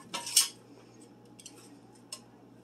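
Metal tongs clink against an air fryer basket while pork is flipped, two quick bright clatters up front, then a few light taps and a final clink, close by and otherwise quiet.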